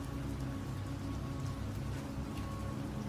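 Steady rain falls in a continuous soft hiss with faint pattering drops, even and unbroken throughout, with no voices.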